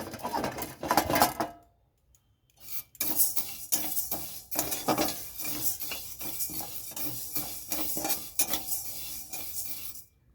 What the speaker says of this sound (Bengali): মটর ডালটা হালকা নেড়ে নেব